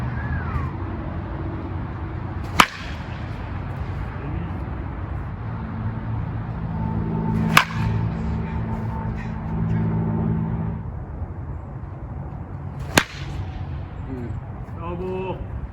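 An American Batsmith TS28 ash wood baseball bat strikes balls three times, evenly spaced about five seconds apart, each a sharp loud crack over steady background noise and a running engine hum.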